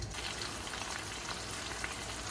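Sausage laid in a hot pan begins to fry, giving a steady, close sizzle and crackle that stays even throughout with no talking.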